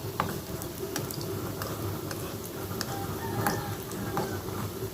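Beetroot kola balls fry gently in oil over a low flame, a continuous quiet sizzle with scattered tiny pops and crackles, close and even throughout.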